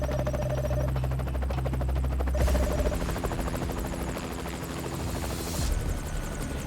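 A helicopter caught in a strong downdraft roars steadily close by, its rotor chop and engine whine loud and continuous throughout.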